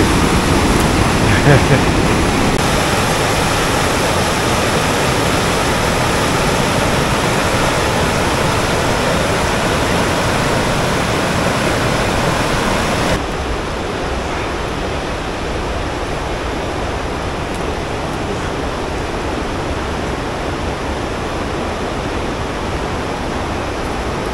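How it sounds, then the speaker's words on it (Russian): Constant rushing of a flowing mountain stream, loud and close, with the sound abruptly dropping a little in level partway through; no voices. "Первая вода, ручей Майбулак."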